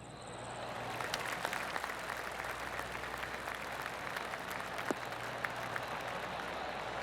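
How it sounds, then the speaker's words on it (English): A golf crowd in a video game, PGA Tour 2K25, claps steadily, a soft, even patter of many hands that keeps going for several seconds, fairly distant and moderate in volume. "Oh, I can hear the golf claps around the course."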